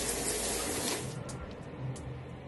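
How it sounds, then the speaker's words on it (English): Shower water runs with a steady broadband hiss, loud at first and then easing slightly, with a few faint knocks in the background and no talking. "So yeah, time to take a shower."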